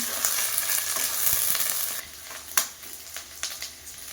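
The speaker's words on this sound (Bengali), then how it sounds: "আদাটাকে একটু নেড়ে চেড়ে নিয়ে এর মধ্যে দিয়ে দেবো টমেটো।" Tomatoes go into ginger frying in oil for a village-style Bengali mutton and potato curry. A loud bright sizzle drops to a quieter crackle, punctuated by distinct stirring scrapes and knocks against the pan.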